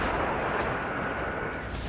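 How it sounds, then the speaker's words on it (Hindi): Explosion of an S-400 air defense system in Crimea, a dense, continuous rumbling roar of blasts and crackling bursts that stays loud and thick throughout with no pauses. "ये ऐसा धमाका है"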